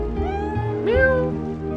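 A cat meows in the video game Chrono Cross: a single rising-then-falling cry over steady game music, fairly close and clear.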